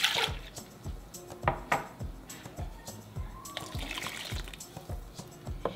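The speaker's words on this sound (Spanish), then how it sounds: "Y le voy a agregar como media taza más de agua." Water poured into a cooking pot of pork adobo sauce: a continuous liquid trickle and splash over nearly six seconds, with light metallic knocks from the pot, heard close and with no talk.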